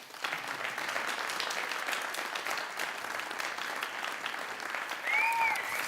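A big round of applause from the audience at a Rotary District 6630 speech competition, continuous full clapping that stays even for several seconds, with a brief whistle-like tone near the end.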